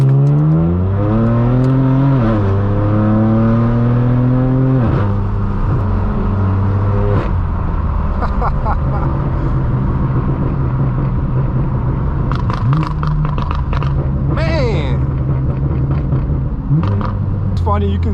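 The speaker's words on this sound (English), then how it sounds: "we still got the crackles on. We got to hear it." Straight-piped, Gintani-tuned BMW M4 F82 on a road drive, its engine revving up and down in loud rising and falling sweeps, with sharp exhaust crackles and pops near the end, under occasional talk.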